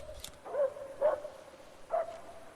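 Dogs in the video game Project Silverfish bark three times, spaced about half a second apart, sounding fairly close and moderately loud over a quiet, humming background.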